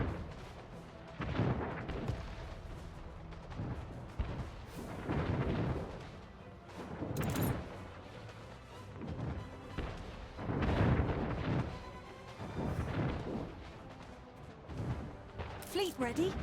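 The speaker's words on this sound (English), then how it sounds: "just these tiny mounted guns peppering me" Deep booming bursts of mounted guns fire repeatedly at a ship in the strategy game Anno 1800, rolling in irregular volleys with someone talking over them.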